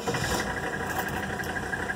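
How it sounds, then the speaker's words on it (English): A 1983 Mercedes 300D diesel engine idling, a steady rough mechanical clatter heard close and fairly loud, even throughout. "Let me show you the engine. I'll go ahead and crank it up."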